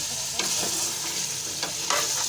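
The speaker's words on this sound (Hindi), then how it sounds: "हमने गोश्त और प्याज को धोकर चूल्हे पे रख दिया था तेल डाल के सरसों का।" Meat and onions frying in mustard oil on a stove for a turnip and meat curry, a steady close sizzle with a few soft stirring scrapes and no talking.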